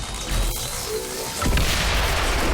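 Explosion in XCOM 2 during a fight against a sectopod: a single muffled boom that lands midway and rumbles on under steady game ambience, sounding smaller than expected.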